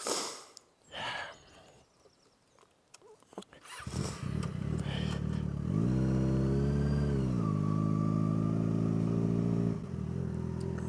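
A motorcycle engine idles and revs steadily up close, its low droning pitch rising and falling, after some brief rustling and handling noises at the start.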